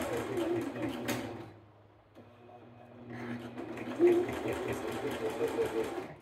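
A sewing machine running a straight stitch with a short back-stitch through doubled bed-sheet fabric for an apron, whirring in steady bursts close by with a brief pause midway and faint voice in the background.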